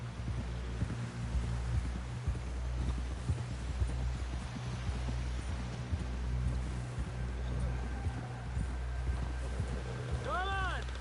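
Horse hooves in Red Dead Redemption 2 pound in a steady galloping clip-clop throughout, close and continuous under a low rumble, with people talking over the ride.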